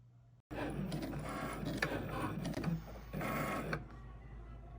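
Cricut Maker cutting machine drawing with a yellow pen, a close, steady mechanical whir and buzz of carriage motors with short pauses and shifts in pitch as the pen moves.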